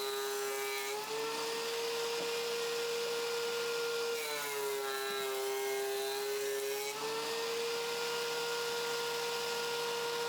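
A thickness planer set to 2.5 inches runs 2x3 wooden bench leg assemblies through joint side up, a steady loud whine with a tonal hum that shifts pitch as each piece feeds through, continuous with no talking.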